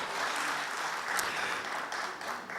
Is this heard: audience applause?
yes